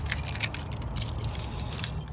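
A bunch of keys jingles continuously and close up in a parked car at a storage unit, bright metallic clinks over a low engine rumble.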